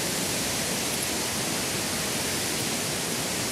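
A waterfall roars in a dense, constant rush of water, loud and even throughout with no voices.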